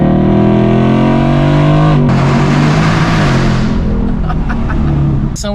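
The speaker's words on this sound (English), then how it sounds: "Oh my God, it gets through those gears so fast" A Ford Bronco Badlands revs hard as it accelerates, its engine tone climbing steadily, then dropping sharply at a quick gear shift before it pulls on, loud and close.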